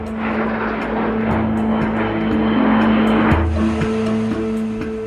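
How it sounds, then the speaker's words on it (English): A Sukhoi Su-25 jet attack aircraft roars overhead in a loud, sustained engine drone with a steady tonal whine that shifts pitch midway as it passes, with no voices. "Among these aerobatic jet fighters is the Sukhoi 25."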